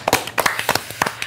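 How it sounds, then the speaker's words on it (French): Scattered hand claps from a small audience at a French gymnastics show honoring a team's vice-championship, sparse and uneven, several distinct claps close by with no voices. "Ça s'applaudit quand même."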